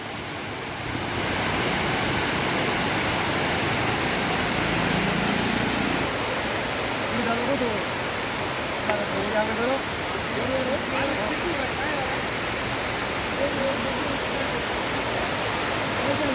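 A waterfall beside the road to Srisailam gives a steady, broad rushing roar that runs unbroken after the first second, with voices faintly audible beneath it.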